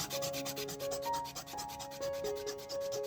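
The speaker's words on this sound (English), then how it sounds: "Let's grab a sanding stick and try to get it to one position." Close, rhythmic scratchy rubbing of a sanding stick on a model tank kit part, strokes repeating quickly and steadily, with no talking.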